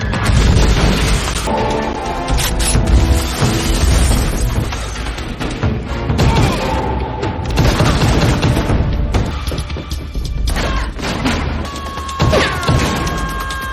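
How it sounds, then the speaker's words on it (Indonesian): Dense action-movie gunfight from The Replacement Killers, with continuous loud gunfire, crashes and booms layered over a swelling score, sustained at high intensity throughout. "Maka terjadilah tembak-menembak seperti dalam film-film action."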